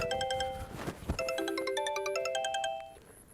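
A phone rings with a repeating electronic melody of bright tones, fairly close and clear, fading out near the end.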